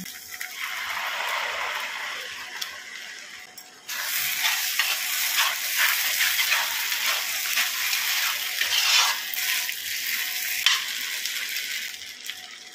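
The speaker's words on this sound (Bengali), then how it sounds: "পেঁয়াজটা প্রায় 3-4 মিনিট ভাজা হওয়ার পরে এর মধ্যে যে মৌরি, আদা, কাঁচা লঙ্কা আর কাজু বাদাম বেটে রেখেছিলাম সেইটা দিয়ে দিচ্ছি।" Sliced onion fries in a pan as a paste of fennel, ginger, green chilli and cashew is added, with a steady sizzle that grows louder midway and continues under occasional stirring scrapes.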